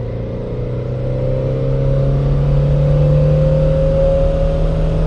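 A Citroen BX 19DTR non-turbo diesel revs steadily on a dyno, its droning engine note climbing smoothly under load, loud and continuous with no talk.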